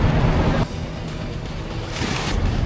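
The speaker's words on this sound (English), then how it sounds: "This is the Atlantic Ocean right here." Atlantic Ocean waves at Lisbon, Portugal, a steady broadband wash of surf with wind noise on the microphone, fairly loud and continuous throughout.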